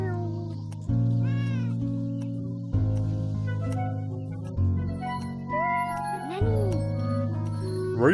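A cat meows repeatedly in the video game Beyond Eyes, several clear cries over a game music and ambient bed with faint tinkling.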